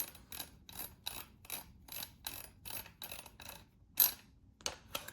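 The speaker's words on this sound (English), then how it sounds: "you're going to go to your magazine cap and start turning it counterclockwise" Magazine cap of a Mossberg Maverick 88 pump shotgun being unscrewed, a rapid regular series of crisp ratcheting clicks, close and alone, ending with a louder snap.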